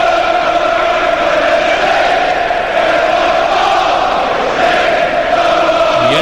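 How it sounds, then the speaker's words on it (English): Dense, loud stadium crowd at a Brentford vs Fulham football match, a sustained roar of chanting and singing from many fans that swells slightly throughout. "Listen to that crowd."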